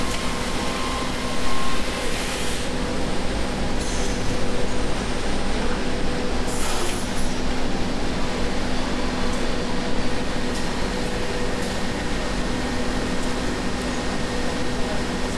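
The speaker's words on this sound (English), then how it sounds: "The four air jets are managed by the CNC control based on the direction the machine is cutting, so that only the jet behind the tool is blowing." Busellato CNC nested base machine with its air jets blowing, a loud continuous broadband hiss and mechanical hum, steady and dense with faint tonal whines throughout.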